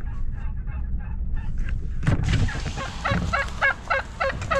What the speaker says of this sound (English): all the turkeys